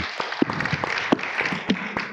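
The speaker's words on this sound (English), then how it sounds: "how about a round of applause for Oakland 80?" A round of applause at a board meeting, scattered hand claps from a small gathering forming a brief, uneven burst close by with no talking.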